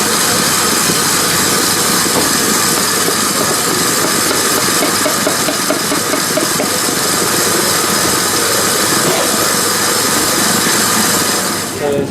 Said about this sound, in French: On va monter les blancs, on va serrer avec le sucre semoule ensuite.